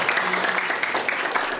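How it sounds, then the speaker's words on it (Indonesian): Seated audience at a hospital talk event claps briefly, a short burst of steady applause close by with no talk. "Tepuk tangan dong buat Bapak Ibu semua."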